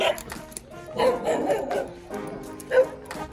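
A dog on a street gives a few short barks and yips, moderately near, in separate bursts over a few seconds with background noise between.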